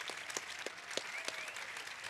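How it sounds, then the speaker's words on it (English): An audience gives a short round of applause, with scattered individual claps standing out over a soft, fairly distant wash. "Give it up, please, for Miles Simon and Richard Jefferson for being here."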